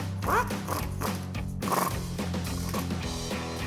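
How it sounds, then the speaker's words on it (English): A 10mm socket on a ratchet clicks in quick, close bursts while tightening brake caliper bolts on a Jeep Gladiator JT during a PowerStop Z23 pad and rotor install, with no voices. "Then take a 10mm socket and tighten these down."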